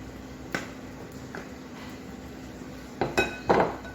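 A few sharp clinks of pots and utensils as potatoes go into a cooking pot for an oxtail dish, one isolated knock early on, then a closer cluster of clinks near the end over a quiet kitchen background.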